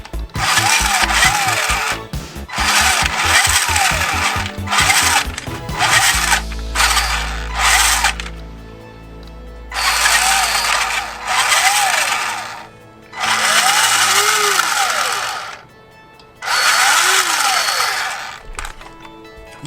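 A 1985 Tandy Radio Shack RC Dash 49 4x4 off-roader, a 1/16 scale toy, runs its electric motor in low range with a high whine in repeated bursts of a few seconds each, separated by short pauses, loud and close.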